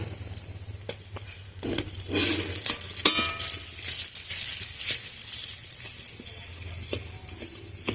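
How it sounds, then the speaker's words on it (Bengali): Ground spices sizzle in hot oil while boiled potatoes are broken up and stirred in, giving a continuous frying hiss punctuated by scraping and knocking strokes of a utensil against the pan. "মশলাটা একটু নাড়াচাড়া করে তেলের মধ্যে ভাজা ভাজা হয়ে গেল এবার সিদ্ধ করা আলুগুলো দিয়ে দেবো ভেঙে ভেঙে"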